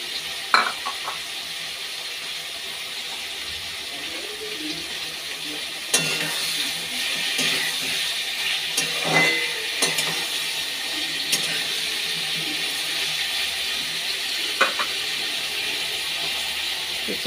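Tomato and curry leaves frying in an oil-slicked pan, producing a continuous loud sizzle with bursts of spitting and occasional stirring scrapes, with no talking.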